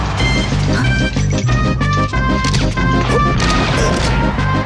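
Super Smash Bros. Melee smash attacks land in a dense, loud barrage of crashing hits and impacts, layered over constant game music for several seconds with no talk.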